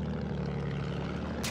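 An attack plane flies in the video game Battlefield 1, producing a steady, loud propeller-engine drone that holds throughout with a brief hiss near the end.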